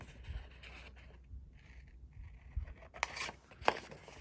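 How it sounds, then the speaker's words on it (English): Scissors cutting a small triangle out of paper for a clutch-style treat bag holder craft, heard as faint, sparse snips and scraping rustles, with two sharper snips near the end, in a quiet room. "I want to take a pair of scissors and I want to cut this little triangle out."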